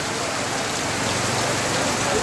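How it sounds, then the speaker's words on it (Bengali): Torrential rain pours over a morning market at Nurani Mor in Ullapara, Sirajganj, a dense, loud, continuous wash of drops beating on surfaces with no breaks. "মুষলধারে বৃষ্টি হচ্ছে।"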